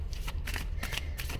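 Tarot cards being shuffled by hand, a dense papery riffle in several quick bursts, close and continuous over a low steady hum with no talking.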